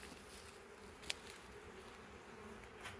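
Honey bees buzz faintly around an open hive, a soft, steady hum with a couple of brief clicks or taps, no voices.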